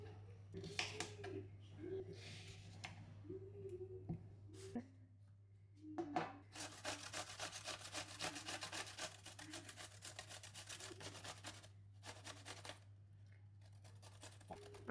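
Food rubbed against a hand grater for homemade tzatziki, quiet scratchy rasping in short irregular bursts and then a longer run of rapid strokes, with a faint steady hum underneath.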